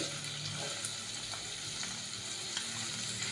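Finely chopped onions sizzle steadily in hot oil with garlic, a close, even crackle and hiss with faint stirring and no voices.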